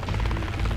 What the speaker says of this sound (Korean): 빨간불을 깜빡이면서 경보기를 울리는 헬리콥터를 보게 돼요